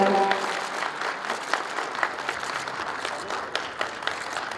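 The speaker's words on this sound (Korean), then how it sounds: "여러분 함께 박수 드립니다" Audience applause at an international COVID-19 symposium in Daegu: a dense, steady round of clapping from a seated crowd in a hall, fairly even in level and lasting the whole few seconds, with scattered sharper individual claps.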